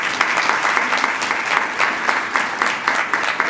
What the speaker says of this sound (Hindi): सेक्रेटरी साहब के लिए तालियां बजा दें।